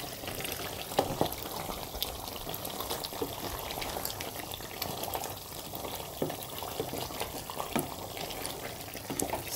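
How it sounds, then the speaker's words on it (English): Banga soup simmers in a pot as a spoon stirs it, a soft wet bubbling and sloshing with occasional light knocks against the pot, quiet and close with no voices. "Let's give it a stir."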